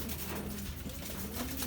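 A pigeon coos in low, soft, repeated notes, heard close but partly buried in heavy, steady background noise.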